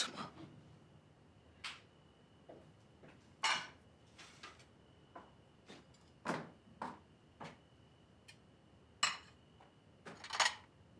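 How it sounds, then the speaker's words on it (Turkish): Dishes being washed in a home kitchen: scattered clinks and clatters of plates, pots and cutlery, irregular and fairly close, separated by quiet gaps. "Ben de şu bulaşıkları halledeyim dedim."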